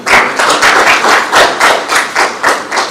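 An audience at a Senate liaison committee workshop in Uasin Gishu County applauds senators, with loud, close, rhythmic clapping that pulses in waves throughout.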